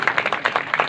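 An audience at a Marathi comedy performance claps in a brisk, steady rhythm, each clap distinct, with no talking over it.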